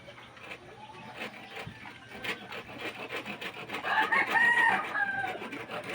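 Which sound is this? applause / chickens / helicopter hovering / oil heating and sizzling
chickens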